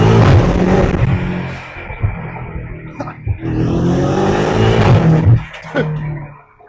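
A BMW M5 Competition engine rumbles loud and close, its roar rising and falling through the clip with a brief lull in the middle, no voices over it.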